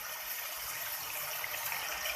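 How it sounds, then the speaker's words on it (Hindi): A cup of water pours steadily into a pan of kaleji (liver) masala, producing a continuous hissing gush with no pauses or talking. "इसके साथ ही इसके अंदर हम डालेंगे 1 कप पानी।"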